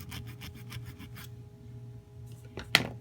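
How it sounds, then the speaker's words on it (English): A steel file rasps along the edge of a metal necklace end for a leather cord clasp, about seven quick, even strokes close by, then a pause and a single sharp click. "take your steel file and run that along that edge to make that smooth"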